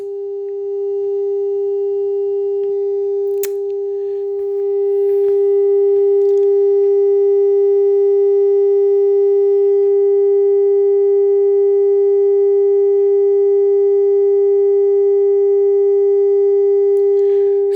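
A steady 400 Hz test tone played for a frequency measurement holds a single pure pitch for the whole stretch, loud and unbroken, with no talking over it.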